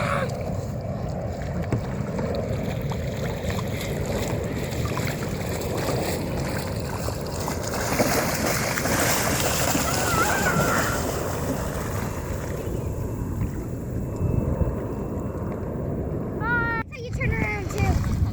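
Kayaks are paddled on Mission Bay, with continuous water wash and wind rushing close to the microphone while voices talk in the background throughout.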